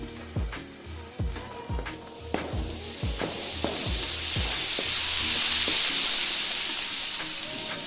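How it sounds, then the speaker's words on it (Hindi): An anar fountain firework is lit and sizzles with a rough, steady hiss that swells and grows denser over several seconds, with crackles and soft thuds at the start. No voices are heard. "चुन्नी के बाद बुल्ली एक अनार जलाता है।"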